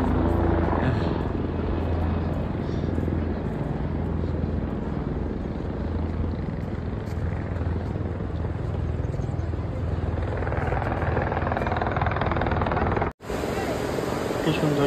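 A helicopter at the Kedarnath helipad in the Himalayas drones in a loud, continuous rotor roar from nearby throughout, briefly cut off near the end, with no talk.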